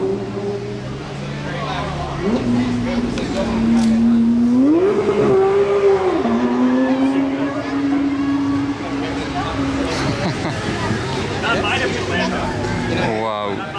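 A Porsche GT3 RS accelerates hard through the Monaco tunnel, its engine note climbing and holding as a loud, sustained roar with a pitch rise mid-run, heard under nearby chatter.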